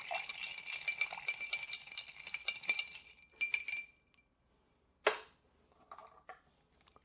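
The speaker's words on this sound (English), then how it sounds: "We're going to pour it in a rocks glass." A Japanese-style Old Fashioned cocktail with ice poured into a rocks glass: close, bright, rapid clinking and rattling of ice against glass for about four seconds, then one sharp clink and a few faint ticks, with no voices.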